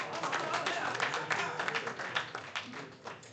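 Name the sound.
audience applause for speaker Brooklyn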